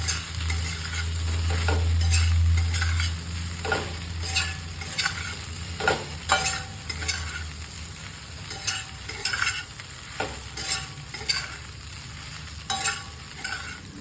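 Idli pieces stirred and fried in a pan, a spoon scraping and knocking in repeated strokes over a continuous sizzle, close and fairly loud, with no one speaking.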